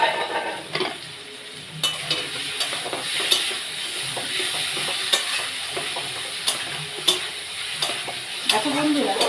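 Spice paste fries and sizzles in a pan for a cabbage dish cooked with fish head, with a steady hiss and repeated scrapes and clinks of a stirring utensil against the metal.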